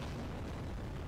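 A Meteor Wing attack explosion from the Digimon Digital Card Battle video game: a sustained, dense booming rumble that fills about a second at steady loudness, with no voices.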